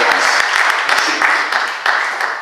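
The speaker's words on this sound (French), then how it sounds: "il faut vraiment t'applaudir ce soir" Dense audience applause at a conference fills the room, loud and close, with continuous overlapping claps swelling slightly in waves and a faint murmur of voices beneath.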